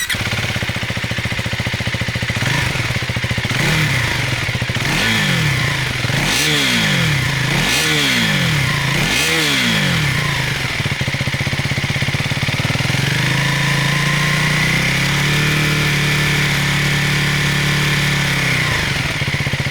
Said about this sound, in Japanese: ではエンジンをかけてみましょう。